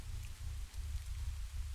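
Steady rain in a video game, a dense even hiss of falling drops with a low rumble beneath, continuous and fairly quiet throughout.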